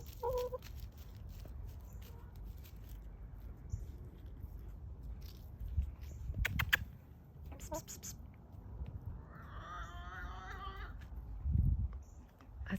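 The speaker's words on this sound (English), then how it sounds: "That sounds like a cat." A cat meows once, a drawn-out mid-range call, at a city backyard chicken coop at dusk, set against low rumbling background noise with faint hen clucks.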